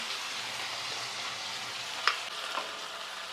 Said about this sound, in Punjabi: ਇਹਨਾਂ ਨੂੰ ਤਾਂ ਚੰਗੀ ਤਰ੍ਹਾਂ ਭੁੰਨ ਲਈਏ ਹਰੀ ਮਿਰਚ ਨੂੰ ਤੇ ਪਿਆਜ਼ ਨੂੰ